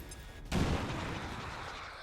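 A grenade blast hits a sectoid in XCOM 2 Long War of the Chosen, a single sharp boom halfway through followed by a loud, sustained rumbling tail.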